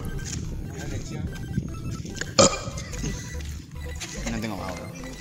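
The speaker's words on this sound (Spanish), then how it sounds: "Tirate en eructo" A single loud burp erupts from a man amid casual outdoor chatter, short and abrupt, with voices talking before and after it.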